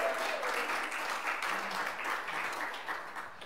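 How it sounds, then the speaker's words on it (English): A live church gathering audience cheers and claps together, a steady broadband wash of crowd noise holding for several seconds and fading slightly toward the end. "Give a big cheer."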